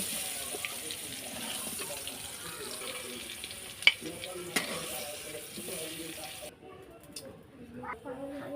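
Papaya pieces frying in oil in a village kitchen, a steady wet crackle running throughout with a couple of sharp pops, then quieting near the end.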